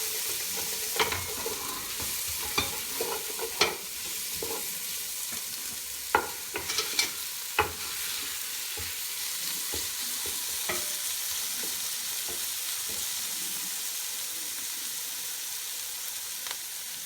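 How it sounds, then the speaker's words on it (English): Fish fries in a pan for Sayadiyeh while being stirred, with a constant soft sizzle and scattered scraping clicks and knocks from the utensil. "I'm going to fry this up. We need to give it color."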